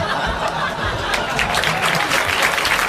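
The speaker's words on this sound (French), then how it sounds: "Ils applaudissent" A studio audience at a 1981 French television show breaks into steady, loud applause, with scattered laughter and murmuring chatter mixed into the clapping throughout.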